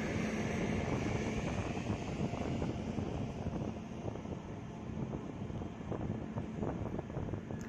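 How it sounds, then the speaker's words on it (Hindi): Strong gusting wind buffets the microphone on a moving train, a loud continuous roar with rumbling low-end that holds steady throughout, with no voices. "आपको साउंड आ रहा होगा हवा का, काफ़ी ज़ोर से हवा भी चल रही है"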